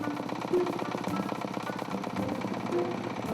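An ancient truck's engine chugs with a steady, rough mechanical throb and rattling vibration on a mountain road, mid-distance and moderately loud, with no speech over it.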